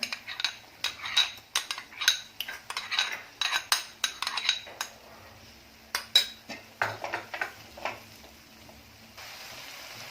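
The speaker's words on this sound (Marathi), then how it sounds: "इथे दोन चमचे दही घेतलेलं आहे घट्ट छान असं दही फेटून घ्यायचं" A spoon whisks two spoonfuls of thick yogurt in a bowl, quick light clinks and taps in an irregular rhythm, close but fairly faint, with no talking, ending in a soft steady hiss.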